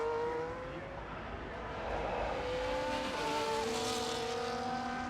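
Race cars battle through Monaco in a racing game, a Ferrari and a Sauber, with high engine whines shifting pitch as they rev and close in, steady and loud throughout.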